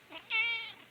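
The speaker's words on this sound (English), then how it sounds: "this is our female elderly cat" An elderly female cat gives a single short meow, close and fairly quiet, rising then trailing off, alone without talk.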